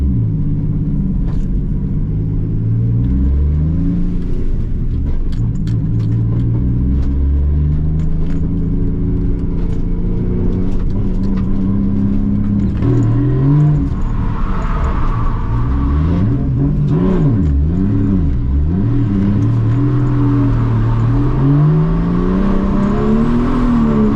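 A car engine revs hard in second gear during drifting at Santa Pod, close and loud, its pitch sweeping up and down continuously with throttle changes and a rumbling undertone throughout.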